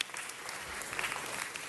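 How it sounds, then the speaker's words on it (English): Steady audience applause in a city council meeting chamber, a dense even wash of many hands clapping throughout, moderately distant and without talk. "Let's give them another round of applause."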